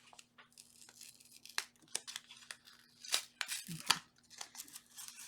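A crookedly laid adhesive strip is peeled back up from a paper page in close, quiet, crackly tearing bursts of uneven length, with a brief handling rustle between them.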